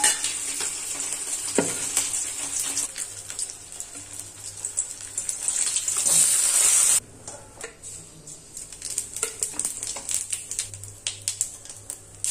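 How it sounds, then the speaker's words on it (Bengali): Pieces of rohu fish frying in oil in a pan, a continuous close sizzle with crackling pops and occasional stirring clicks, louder in the first half before settling. "মাছটা ভেজে নেব"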